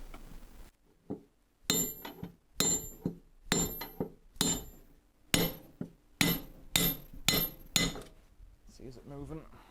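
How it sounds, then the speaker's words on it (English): Heavy metallic hammer blows on a big drift, knocking out washing machine bearings, ring out in a steady series of about ten sharp clanks, close and loud with brief pauses between strikes. "So I'll begin to get these bearings out by driving them out with a big drift."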